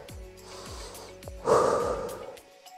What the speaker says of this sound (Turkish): Derin nefes al, ver.